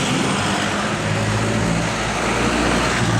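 Steady road traffic at a street corner, cars and other vehicles flowing past with a continuous low rumble and engine drone, fairly loud and close, with no voices.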